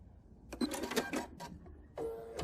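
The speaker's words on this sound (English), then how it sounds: "So then I'm going to back up 3 or 4 stitches" A Bernina sewing machine with a walking foot backstitching three or four stitches on a potholder binding, a short quiet mechanical whirr in two bursts separated by a brief pause.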